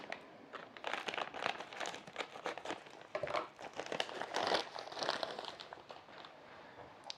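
Product packaging from a craft-supply haul is crinkled and torn open, with a steady run of plastic crackling and rustling close up, swelling in the middle and tapering off at the end; no talking.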